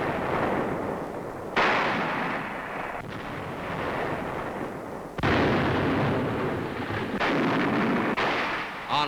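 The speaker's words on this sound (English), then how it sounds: "The United States Navy hurls thousands of shells into enemy positions." US Navy warships shell enemy positions on Okinawa in WWII, with heavy, continuous booming and roaring blasts that surge at intervals over a dense rumble.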